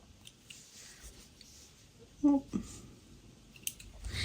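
Scissors trimming thread close to the stitches on a sewn snap pouch, with a few quiet close snips and clicks, one a bit louder, in an otherwise quiet room.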